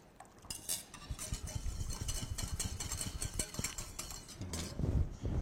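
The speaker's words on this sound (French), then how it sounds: "je vais battre le tout" A whisk beating a mixture rapidly in a metal saucepan, a quick scraping, clinking rhythm that keeps going steadily and grows slightly heavier toward the end.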